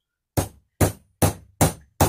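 A hammer strikes a metal rivet on a small anvil while setting hardware on a leather bag, giving five sharp, ringing knocks at an even pace, close and loud with no talking.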